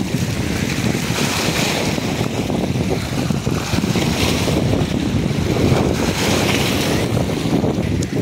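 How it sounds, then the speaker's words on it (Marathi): Water churns and laps without a break at the Paithan Nath Maharaj lake, a full, rushing wash mixed with gusty wind buffeting the microphone and holding loud and steady throughout. "बघा ही लाटा कशा"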